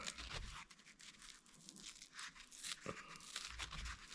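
Backing peeled off a sponge pad for a homemade tin air freshener, heard as a close, quiet, crinkly tearing and rustling that continues throughout in irregular bursts, with no talking.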